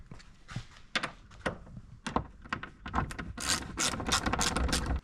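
Quick rattling clicks of a ratchet fitted with a 13mm socket come in short bursts as bolts are tightened on a removable false floor in an Isuzu MU-X, close and crisp with small knocks between strokes.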